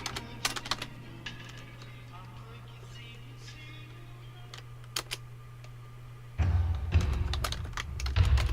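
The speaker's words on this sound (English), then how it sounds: "typing in a weird position" Computer keyboard typing in a cramped, awkward hand position, heard as scattered faint key clicks under a steady low hum, growing louder and busier toward the end.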